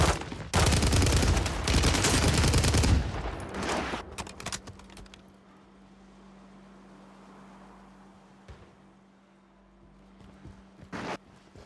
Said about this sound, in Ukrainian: Він стріляє.